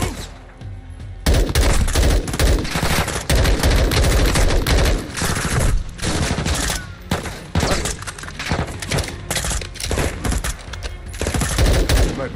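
Rapid bursts of gunfire from a Call of Duty Modern Warfare II battle, loud and dense, with sharp overlapping shots and sniper fire continuing almost without pause after a brief quiet opening.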